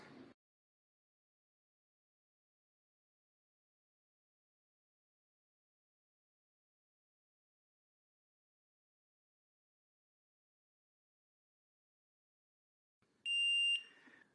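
After a long stretch of near silence, a single sustained electronic beep from a Kwikset SmartCode 909 door lock completing a reset sounds, clear and close, lasting about a second.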